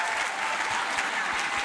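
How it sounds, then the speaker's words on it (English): Steady audience applause fills a public-speaking event in New York, dense clapping holding at an even level throughout without talk on top. "Keep that applause coming."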